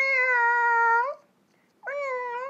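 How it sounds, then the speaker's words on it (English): A cat meowing indoors, two clear, close, drawn-out tonal meows separated by a short silence. "All right, Brooklyn, come on, my cat, she want to be in a video, guys"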